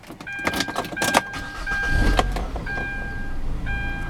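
A 2011 Hyundai Santa Fe Limited starts up close by, a short crank catching into a smooth idle, with a few chimes and clicks around it.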